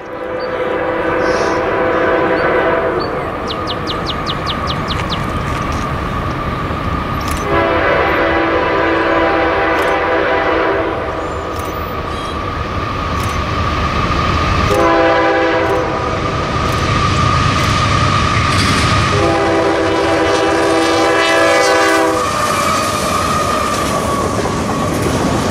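Freight train Q037 hauled by a YN2 AC44 locomotive passes near Hardyville, South Carolina, on the Charleston Sub, sounding repeated long horn blasts in several bursts over a loud, steady rumble and rattle of railcars close by.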